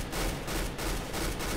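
Counter-Strike: Global Offensive gunfire rattles off in a rapid burst of repeated shots, fairly faint and steady for the whole stretch.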